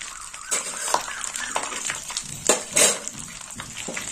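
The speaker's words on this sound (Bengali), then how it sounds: "এখানে আমি ফোড়ন দেবো। ফোড়নে নিয়েছি 4টে শুকনো লঙ্কা," Four dried red chillies crackle and sizzle in hot oil, with soft spoon stirring and a few louder clinks and bursts in a steady, close kitchen frying sound.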